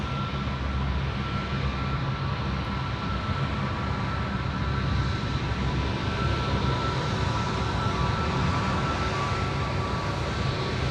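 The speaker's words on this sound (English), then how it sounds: "coming out here in front of us is the Kiwi 320, and these guys are going home. The 321 Neo, rather." An Air New Zealand Airbus A321neo at Sydney Airport at night gives a loud, steady jet engine roar, heard from nearby. It stays broad and constant with no speech.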